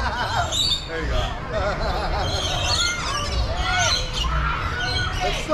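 Bird at Busch Gardens squawking in short, repeated calls, heard up close amid people talking and general crowd noise.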